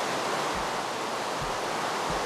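Steady broadband wash of ocean water heard while swimming in the video game Minecraft, a constant hiss with faint low thumps recurring roughly every second.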